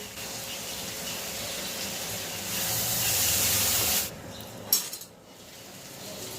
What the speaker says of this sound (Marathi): आता आपण बघू शकतो की भाजी थोडी वाफ आलेली आहे